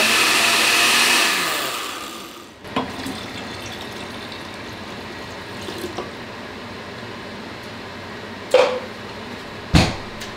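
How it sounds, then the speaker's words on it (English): A blender whirs loudly with water inside, a steady broadband roar for about two and a half seconds that cuts off abruptly, followed by quiet kitchen room tone with a couple of sharp clicks or knocks near the end. "I have my blender and I'm gonna put it in here. I'm gonna put a little bit of water in there."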